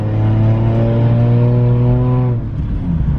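A car engine holds a loud, steady high rev close by with a turbo whistle riding on top, then drops off sharply as the throttle closes, with no talking over it.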